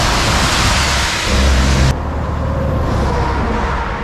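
Trucks and road traffic on Route 219 rush past a cyclist: loud broadband roar of a close passing vehicle that cuts off abruptly, then lower steady traffic rumble and hiss continuing.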